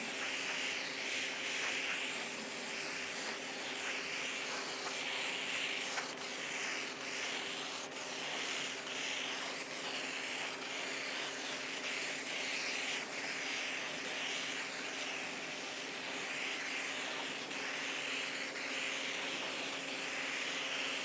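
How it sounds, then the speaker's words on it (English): Spray painting a 1/4 scale Aquaman model figure gives a steady, soft, continuous hiss that runs unbroken for the whole stretch. It stays fairly faint and even, with no talking. "Try to keep it parallel to the surface you're spraying as much as possible."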